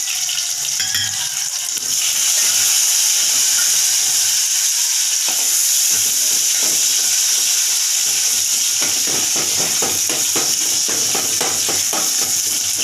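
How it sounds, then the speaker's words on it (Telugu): Onions frying in a pan with green chillies, a loud continuous sizzle and hiss up close with clinks and stirring scrapes throughout, no voices. "ఇప్పుడు ఉల్లిపాయలు అవి బాగా వేయించుకున్నాం"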